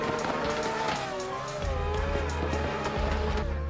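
Ferrari and Nissan S15 drift cars in a tandem battle at a drift event, engines roaring loud and continuous with wavering revs and tire squeal blended in, a deeper engine drone joining partway through.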